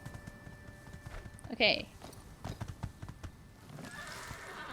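A horse in the video game My Time at Sandrock gives a short neigh amid soft clip-clop hoofbeats, heard faintly under a speaking voice.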